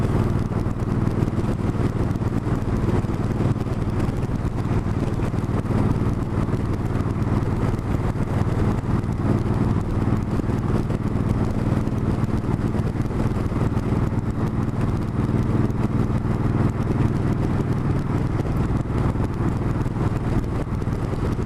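A steady, loud engine drone of a motorcycle cruising along a road, with constant wind rush and no voices.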